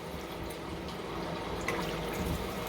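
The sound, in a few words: water poured into a pan to make sugar syrup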